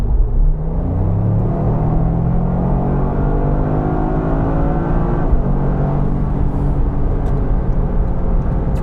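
A Toyota GR Yaris RZ High Performance accelerates hard inside a tunnel, its engine note rising in a steady, loud drone with a rumble that echoes off the walls. The sound holds continuous for several seconds, with no talking.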